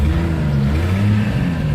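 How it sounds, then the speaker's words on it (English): A Chevrolet Trailblazer engine runs smoothly with a steady, loud, close low hum and even tone throughout. "I think you can hear that engine a little bit. But it's a smooth engine"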